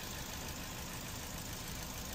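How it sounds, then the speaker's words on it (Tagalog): A Ford EcoSport engine idling: a steady, even mechanical hum with a light knock-like texture, close and quiet and continuous throughout, with no voices. "Saka yung engine niya, malaman mo yung tunog."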